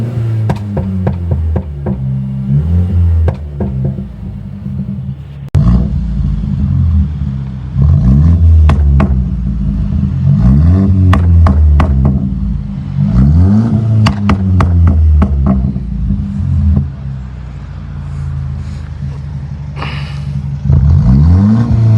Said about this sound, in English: I'll give it a few revs and you can hear how it sounds.